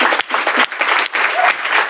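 Studio audience clapping together in a brief, loud, close burst of applause that pulses slightly before fading.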